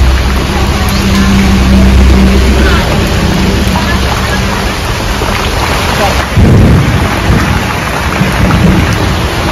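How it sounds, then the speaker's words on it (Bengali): Heavy rain pours steadily with low rumbling thunder rolling underneath, a dense continuous wash of downpour close by, heard outdoors during cooking. "বৃষ্টি তো নেমেই গেল"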